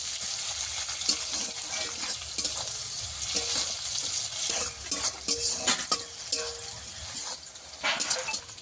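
Onions frying in a pan for a Bengali country-chicken curry, a steady close sizzle broken by repeated scraping and stirring clatters from a utensil, with no talk.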